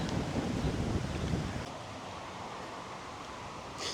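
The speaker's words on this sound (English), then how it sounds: "that wind's really kicking up now" Wind gusts at a creek during cold-weather bank fishing. The blustery, steady rushing is strongest in the first half and then eases to a softer roar, with no voices.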